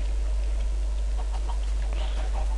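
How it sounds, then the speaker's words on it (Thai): Chickens cluck softly in short scattered calls over a loud, constant low hum. "ไก่นะครับ"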